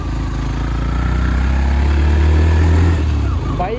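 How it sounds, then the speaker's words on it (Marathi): A new Yamaha FZ motorcycle engine hums loudly and close, a steady low drone that builds slightly in pitch and strength midway before easing off, with no speech. "बाइक नई है FZ"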